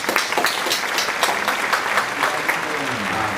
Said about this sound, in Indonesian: Kita beri aplaus kepada pimpinan kita.